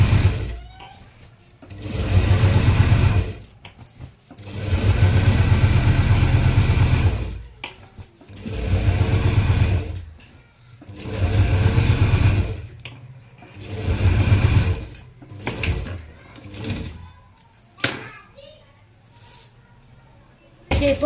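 Sewing machine stitching a simple suit, running in several long bursts of steady motorized whirring separated by short pauses, with a person talking through the gaps.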